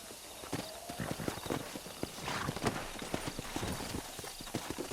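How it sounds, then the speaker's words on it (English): Horse hooves clip-clop in a quick, steady rhythm in the video game Red Dead Redemption, fairly close, over a continuous background hum with faint ambient noise. "There should be some horses for us across the way."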